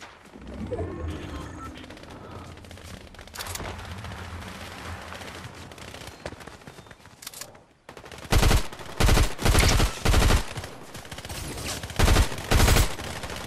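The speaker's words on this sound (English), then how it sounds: "I hear bullets." Gunfire in Fortnite, a busy game soundscape with scattered shots that gives way to loud, rapid automatic bursts fired in repeated volleys close by.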